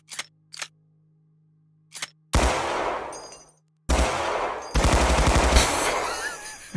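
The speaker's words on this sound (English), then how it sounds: "we have here is a 45 ACP submachine gun designed by Gordon B. Ingram" Ingram Model 6 .45 ACP submachine gun firing in the Receiver 1 game mod: a few sharp mechanical clicks, then two long loud bursts of rapid automatic fire with brief metallic handling noises between them.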